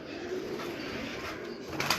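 Pigeons on a rooftop give low, soft cooing, faint and steady against outdoor background, with a brighter brief sound near the end.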